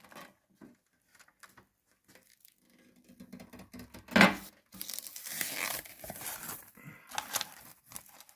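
Packaging of a King Tony 4533MR 24-piece socket set crinkles and tears as it is opened, sparse rustles building to a loud rip, then busy plastic crumpling and handling up close.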